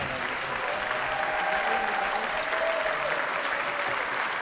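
A festival crowd at a folk music concert applauds loudly and steadily, a full unbroken wall of clapping with a faint voice or cheer drifting through.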